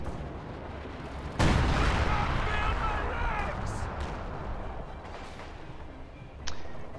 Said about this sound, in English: that single barrage brought it down to like half